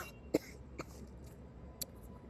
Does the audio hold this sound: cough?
yes